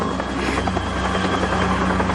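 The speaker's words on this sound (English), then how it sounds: "It's just a helicopter." A helicopter drones steadily, its rotor chop a constant low throb that fills the whole stretch, fairly loud and unbroken.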